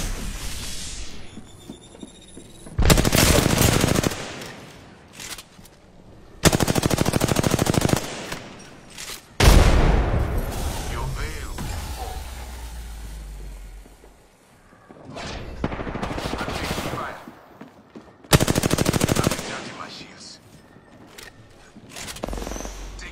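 Gunfire in the Apex Legends video game comes in loud sustained automatic bursts separated by quieter stretches, with heavy booming impacts, close and dominant throughout.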